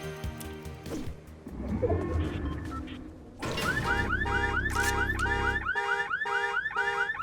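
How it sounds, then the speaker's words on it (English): A car alarm on a Fortnite video game vehicle sounds after a rough clunk, blaring a loud, rapidly repeating chirping and whooping pattern for several seconds. "Fortnite cars in the past, you might have noticed that this has a car alarm, and it never did before."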